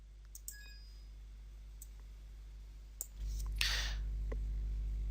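A few sharp, isolated mouse clicks in a quiet room, single taps spaced apart. Partway through, a louder hum and a brief rustle follow. No one speaks.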